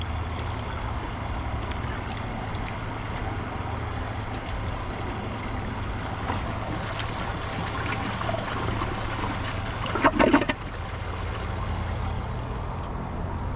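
A Kohler Highline Arc tall-tank toilet flushing while being plunged to clear a clog, a steady rushing water roar throughout with a brief louder gurgling surge near the end, close and continuous with no talking.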